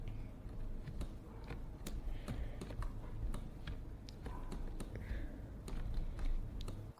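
Computer keyboard keys tapped in a steady scatter of light clicks, close and fairly quiet over a low background hum, while working in 3D modelling software.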